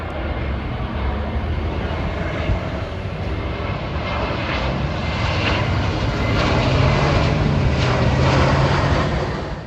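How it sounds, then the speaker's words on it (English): A JetBlue Airbus A321 airliner flies overhead near Rosedale and Valley Stream, its engines a loud, steady roar that builds and swells toward the end with no one speaking. "here's another one of those JetBlue Airbus 321"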